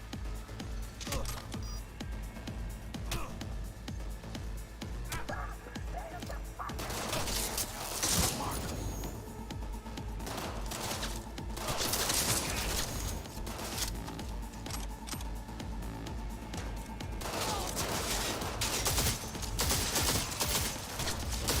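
Repeated shotgun blasts and crashing impacts in combat in the video game Cyberpunk 2077, loud and punchy, recurring in clusters over a dense background of game action.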